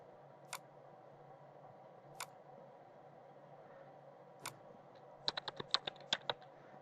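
Typing data into a form field on a computer keyboard: a few isolated, faint key clicks spaced out, then a quick burst of rapid taps near the end, in a quiet room without talk.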